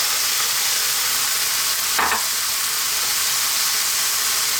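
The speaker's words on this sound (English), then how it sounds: "we're now going to add our tomatoes" Crushed whole tomatoes go into a hot frying pan for garlic spinach tomato pasta, giving a steady loud sizzle and hiss with a brief burst of stirring midway, close up and without talk.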